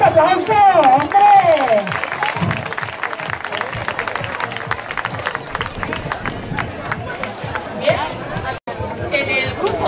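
A crowd at a pet contest in Eibar claps loudly and steadily, with cheers and chatter, while a voice speaks over the applause early on.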